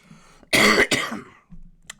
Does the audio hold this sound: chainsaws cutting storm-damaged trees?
no